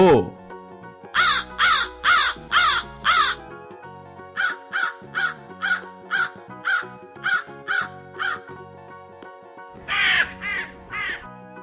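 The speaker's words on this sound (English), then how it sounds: "Crow." A crow caws in loud, harsh, evenly spaced calls, a run of about four, then a quicker series of shorter caws, then a final few, clear and close.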